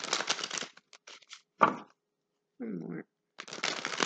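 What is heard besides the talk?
cards being shuffled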